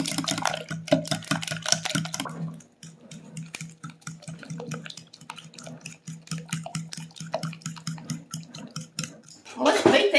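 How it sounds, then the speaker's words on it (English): A fork beats eggs and pie ingredients in a batter bowl, with rapid rhythmic clinking and tapping against the bowl that continues throughout, moderately close, and brief pauses between strokes. "we're going to mix up our ingredients I'm just using the fork"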